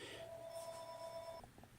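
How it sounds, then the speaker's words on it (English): A telephone rings indoors in one short, steady electronic tone burst that stops abruptly, heard at modest volume over a quiet room background with no talking. "the phone rang and I had to pick that up"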